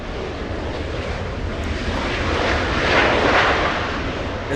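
A Boeing 737 MAX 9 airliner arriving at Los Angeles International Airport from Eugene, Oregon roars steadily with broadband jet engine noise that swells slightly as it passes, loud and continuous with no speech.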